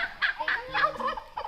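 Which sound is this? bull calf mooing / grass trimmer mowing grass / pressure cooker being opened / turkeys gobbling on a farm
turkeys gobbling on a farm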